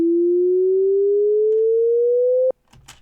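A single sustained synth sine tone glides slowly upward in pitch as part of a Shepard tone riser, steady and loud for about two and a half seconds, then cuts off abruptly, leaving faint rustling noise.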